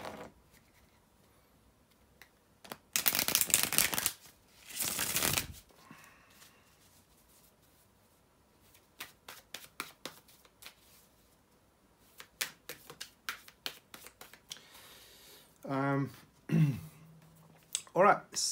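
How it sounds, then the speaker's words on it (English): Tarot cards are shuffled in bursts, two loud riffles early on and then a run of quick, softer snaps and taps, with a brief throat-clearing near the end. "bear with me a second, guys, to shuffle the tarot cards"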